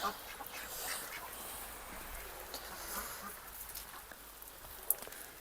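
Ducks quack faintly from inside their house through a steady hiss of rain pattering on a surface, with occasional louder drips.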